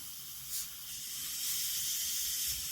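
A hobby airbrush sprays a light, thin mist of paint along the panel lines of a 1:48 Airfix Sea King HU5 model, giving a steady soft hiss that runs the whole time with a couple of brief swells in strength.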